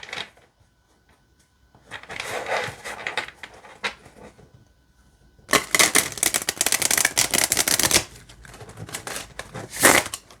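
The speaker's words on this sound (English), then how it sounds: "let's see how they shuffle" Tarot cards from the Darkness Piercer deck being shuffled by hand, long cards riffled and slid in bursts of crisp papery riffling with short pauses between, close and fairly loud.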